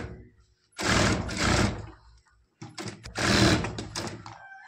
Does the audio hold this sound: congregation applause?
no